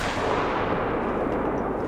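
A rifle shot fired at a kangaroo while hunting in the video game Call of the Wild, a single loud blast filling the short stretch with no one talking.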